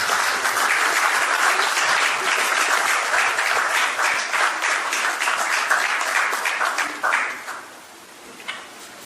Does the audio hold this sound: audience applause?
yes